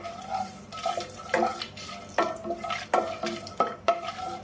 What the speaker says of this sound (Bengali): তেলটা গরম হয়ে গেছে, আমি গরম মশলাগুলো ছাড়ি দিলাম।